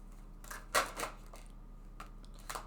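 Tarot cards are drawn and handled during a love reading, giving a few soft, close shuffling rustles and light card snaps, with one sharper flick standing out among faint quiet gaps.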